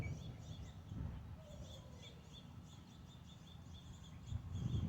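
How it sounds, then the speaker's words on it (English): Faint birds chirping in the background, quick repeated high tweets scattered over a low hum, distant and quiet. "I wish these birds would be quiet"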